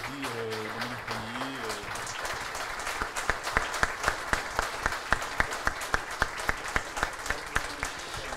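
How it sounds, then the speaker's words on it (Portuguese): Audience applause at a research presentation event, opening under a voice and then settling into clear rhythmic, synchronized clapping from a gathered crowd, moderately distant and fairly quiet. "eu queria pedir uma salva de palmas para Dominique Régnier"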